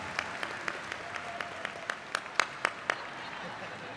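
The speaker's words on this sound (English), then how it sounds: "You can clap for that answer. You're allowed to clap." Scattered, sparse clapping from a fan convention panel audience, with a handful of distinct sharp claps spread across the moment, fairly quiet and distant over low room noise.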